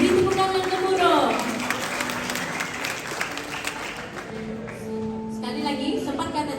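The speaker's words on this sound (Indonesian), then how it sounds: "Beri tepuk tangan gemuruh." Guests at a wedding reception at BEM Canada Hill break into loud, sustained applause that swells early and then settles into steady clapping, with a crowd murmur and faint music tones underneath.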